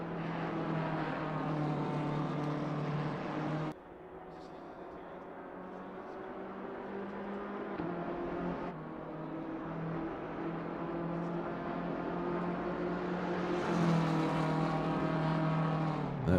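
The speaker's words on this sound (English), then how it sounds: "That BMW is moving down that straight." BMW race car engine roaring steadily down a straight at Silverstone in a racing video game, a continuous loud harmonic drone that shifts pitch at gear changes and climbs toward the end, with no talk over it.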